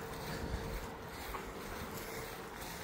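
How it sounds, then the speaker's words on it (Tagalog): Steady, strong wind roars across the microphone in a continuous broadband rush, with low buffeting rumbles and no voices. "Malakas yung hangin."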